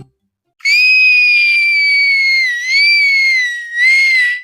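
A cartoon Little Red Riding Hood lets out a long, shrill, sustained scream that wavers in pitch, loud and alone, with a brief dip and a final rising burst before cutting off.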